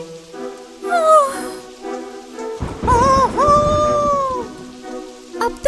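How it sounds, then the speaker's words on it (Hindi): Steady rain pours down through a cartoon thunderstorm, with rolling thunder rumbling low beneath it, while drawn-out tonal cries and whistles rise and fall over the downpour. "कितना भयानक तूफान है।"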